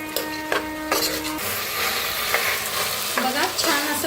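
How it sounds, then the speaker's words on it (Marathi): Peanuts, moth beans and potatoes roasting in hot oil while being stirred, giving a steady close sizzle with intermittent scraping and clinking of a spoon against the pan. "शेंगदाणा आणि मटकी टाकूया आता ह्याच्यातच बटाटो बी टाकूया छान असं भाजून घेऊया"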